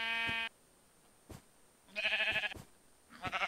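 Sheep bleating in the Minecraft video game, three short, loud, wavering bleats separated by gaps, with faint clicks in between and no voices.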